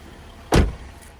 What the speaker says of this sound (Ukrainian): електричний багажник